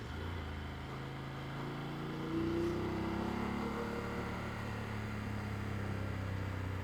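An 850 cc motorcycle engine pulling on a rough mountain road with the clutch slipping, a steady droning hum that rises in pitch and intensity partway through, alone without talk.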